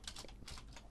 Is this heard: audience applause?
no